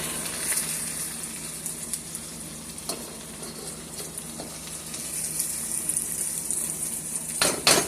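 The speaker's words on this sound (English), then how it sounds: "I can see that the fish is cooking good" Red snapper sizzles and fries in a hot pan, a steady close crackle with occasional utensil scrapes and clinks against the pan and no talking.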